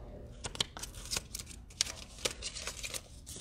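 Transfer tape is peeled from its backing during a craft demonstration with a Brother ScanNCut, giving quiet, crackly, intermittent ripping ticks while a person talks softly.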